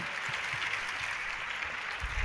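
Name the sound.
audience applause at Gurupurnima festival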